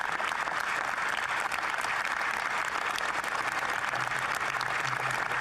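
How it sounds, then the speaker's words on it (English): Continuous applause from a crowd during Canada's 2022 budget announcement, an even wash of clapping heard at moderate distance throughout, with no talking on top. "we'll clap for that"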